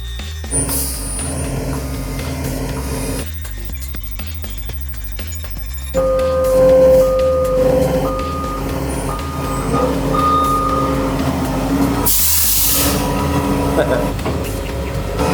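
A heavy truck of about 50,000 pounds backs onto a residential driveway, its reversing beeper sounding in a steady repeating pattern over a loud engine rumble, with gusting wind and a brief hiss partway through.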